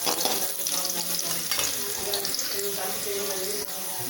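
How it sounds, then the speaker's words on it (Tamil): Five cloves of finely chopped garlic sauté in hot oil in a pan for fried rice, giving a steady, continuous sizzle and crackle throughout, close up with no talking. "கொஞ்சம் நேரம் நல்லா வதக்கிக்கலாம் பூண்டை."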